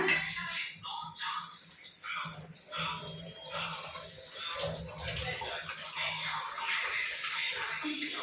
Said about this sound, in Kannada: ಈಗ ಇದಕ್ಕೆ ನೀರನ್ನು ಆ್ಯಡ್ ಮಾಡ್ಕೊಳ್ಳೋಣ ನಿಮಗೆ ಎಷ್ಟು ನೀರು ಬೇಕು ಅಷ್ಟು ನೀರನ್ನು ಇದಕ್ಕೆ ಆ್ಯಡ್ ಮಾಡ್ಕೊಳ್ಳೋಣ